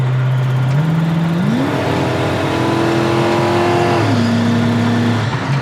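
A 1970 Plymouth Roadrunner's 383 V8 cruises at highway speed at low rpm through a four-speed automatic, a steady loud drone that shifts pitch slightly as the throttle changes, heard from inside the car with no talking.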